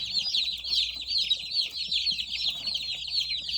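Constant high-pitched peeping from over 50 young meat chicks, a busy overlapping chorus with soft rustling beneath.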